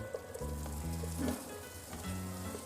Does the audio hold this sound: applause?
no